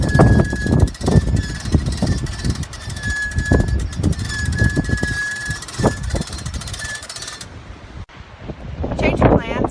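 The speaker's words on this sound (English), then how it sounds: "It's super windy" Strong gusting wind buffets the microphone at an ocean-side campsite beside a camper, heavy rumbling blasts rising and falling, with people talking underneath and a faint steady tone in the background.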